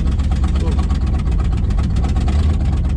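A poorly running 283 engine in a 1960 Chevrolet Impala four-door hardtop, abandoned for 38 years, idles loud and close through an open exhaust with a steady, lumpy throb.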